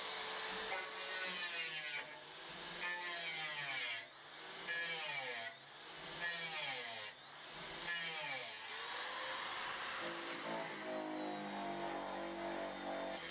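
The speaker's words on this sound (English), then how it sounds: "I'm cutting away the corrosion from the inner wheel arch." A power tool cuts corrosion out of the inner rear wheel arch of a Triumph Vitesse Mk 2, giving a steady, loud, close grinding whine with pitch sweeps and brief dips as the cut pauses, with no talk.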